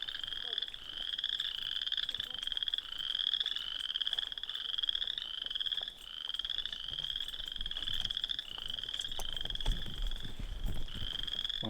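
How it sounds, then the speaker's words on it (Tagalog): Frogs croak continuously in a natural area along a park trail, a dense chorus of rapid, pulsing trills repeating in overlapping bursts, fairly near and loud over faint outdoor background. "Mga palaka yun."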